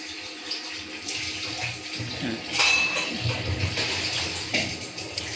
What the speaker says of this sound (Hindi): ये देखो मैं इस पानी को इधर ट्रांसफ़र करती हूँ।